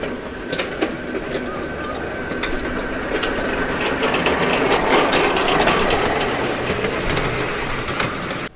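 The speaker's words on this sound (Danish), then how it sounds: "Nu kommer toget tættere og tættere på." A new locomotive approaching on the rails, loud and continuous, with rattling, clanking wheel and mechanism noise over a steady rumble that swells slightly as it nears.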